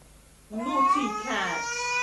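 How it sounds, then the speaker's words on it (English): Domestic cat meowing close by in one drawn-out, wavering call that rises and dips across about a second and a half, loud and alone with no talk. "Naughty cat!"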